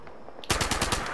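Gunfire in the video game Nuclear Winter, a quick loud burst of about half a dozen rapid automatic shots starting abruptly after a brief quiet moment.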